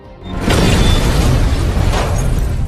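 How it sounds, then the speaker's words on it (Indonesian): A planted bomb detonates, a loud, dense blast that rises suddenly and holds as a thick roaring rumble with debris-like crackle for a couple of seconds, near and overpowering. "dari jauh Samuel segera meledakkan bom yang tadi mereka pasang"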